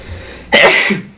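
A single sharp, explosive sneeze bursts out suddenly and trails off within a second, close and loud against a quiet background.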